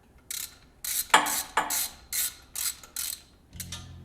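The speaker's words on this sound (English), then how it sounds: "start tightening down the actual bolts that bolt the head pipe up into the heads here" A ratchet wrench tightens the exhaust head pipe bolts into the cylinder heads on an engine during a cam kit installation, giving about eight short, close bursts of clicking in a steady back-and-forth rhythm.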